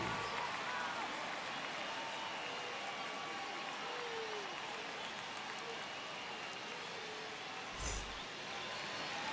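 Stadium crowd in MLB The Show 25 at a Boston Red Sox versus Texas Rangers game, a steady broad roar of cheering and applause filling the whole stretch, with a brief louder swell near the end.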